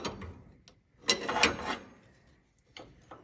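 Jam nut being tightened on a Rolls Royce Silver Cloud II, heard as a few close, faint metallic ratcheting clicks in short bursts, with quiet gaps between them.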